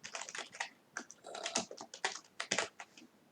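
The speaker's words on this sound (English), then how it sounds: "my typing's a little bit slow" Rapid, uneven clicking of keys on a computer keyboard during a live-streamed hackday, close by and fairly quiet, with a brief faint dog-like whimper in the background.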